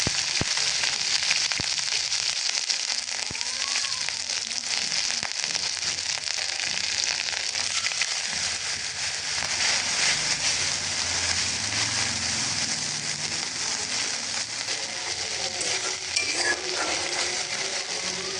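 Boiled chickpeas stir-fried in a pan give a continuous loud sizzle and frying hiss with scraping stirring noises throughout, close and steady, with no talking.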